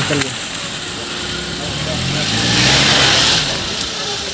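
A car passes along a forest road in Udaipur, Tripura, its engine swelling to a broad whoosh mid-clip and fading again, with voices talking around it.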